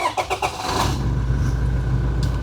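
A Toyota Hilux pickup engine cranks with a few quick starter bursts, fires up, and settles into a steady, loud idle close by.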